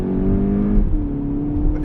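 A 2019 Volkswagen GTI Rabbit Edition in sport mode, its engine note stepping up in pitch as the DSG gearbox blips through a paddle downshift, a steady close drone under no talk.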